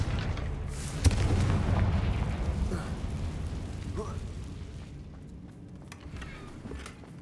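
A Confringo spell explosion in Hogwarts Legacy goes off with a sudden boom, followed by a rumbling, crumbling tail that slowly fades, with faint debris clatter afterward.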